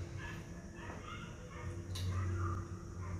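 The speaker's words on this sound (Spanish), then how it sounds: "¿Se escuchan a esos perros?" Faint dogs barking somewhere in the distance, a few scattered yaps and whines over a low steady background hum.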